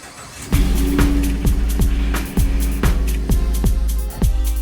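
A Ford F-150 that has sat under snow for two days tries to start, with a close, loud string of repeated thumping cranking pulses in an uneven rhythm and no clear catch into an idle.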